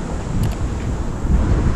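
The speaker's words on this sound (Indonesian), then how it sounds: "Ini anginnya kenceng ya, tapi dingin ya." Strong, cold wind gusting steadily and loudly across an outdoor microphone, a continuous rough rumble with no voices.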